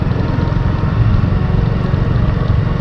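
A motorcycle engine runs steadily on a short warm-up ride through residential quarters in Hubli, a continuous loud low rumble with heavy wind buffeting across the microphone.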